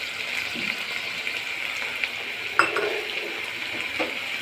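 A spoon stirs a dahi mirchi mixture of chillies, curd and water in a pan, with a faint steady sizzle underneath and a brief scrape of the spoon against the pan.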